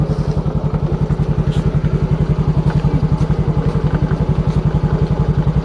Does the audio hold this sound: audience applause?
no